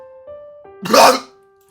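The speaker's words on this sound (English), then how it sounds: "She coughs up blood and smiles painfully." One harsh, wet cough bursts out after a short voiced breath as a character in the Tsukihime visual novel coughs up blood, near and fairly loud, with no speech around it.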